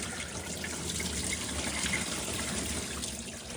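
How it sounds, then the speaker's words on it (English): Water drains out of the engine and radiator of a 1969 Dodge Charger, a steady close rush of splashing liquid that continues unbroken with no talk. "We're dumping all the water out of the engine and radiator."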